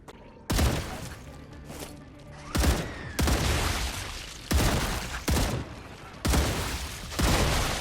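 Gunfire at swarming bugs in the sci-fi game StarRupture: loud bursts of rapid shots in several separate volleys, each with a sharp onset and a short tail of echo, with quiet gaps between them.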